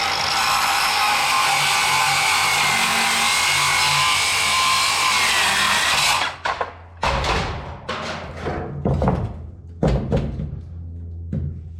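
A power saw cuts a wooden deck board for a flatbed utility trailer, a loud continuous whine for about six seconds, then knocks, thuds and handling of the wood.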